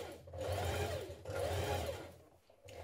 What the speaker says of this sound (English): we're now going to stitch round that armhole